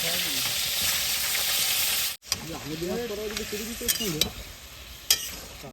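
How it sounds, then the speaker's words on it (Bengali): Potatoes frying in a pan with a bright, continuous sizzle that cuts off abruptly, then resumes with stirring scrapes and clinks while voices talk over it. "আলুটা একটু ভেজে নিই"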